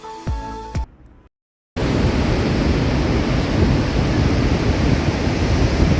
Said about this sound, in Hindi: काली नदी अपने शोर और रौद्र रूप से हमें रोमांचित कर रही थी